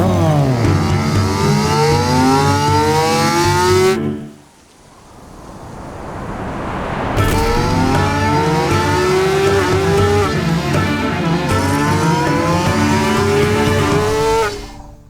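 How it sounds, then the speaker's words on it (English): Loud, close high-revving motorcycle engine whining up and down through gears, cutting out abruptly for a quieter hissing stretch in the middle before the screaming revs return and run to the end. "we go from a high revving motorcycle sound"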